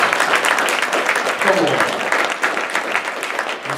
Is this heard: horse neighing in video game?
no